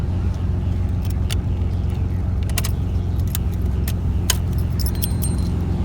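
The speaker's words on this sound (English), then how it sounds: "We took out our key." Car keys jangle in several sharp metallic bursts as the key is pulled from the ignition of a WALD Edition Nissan Z32, over a loud steady engine idle.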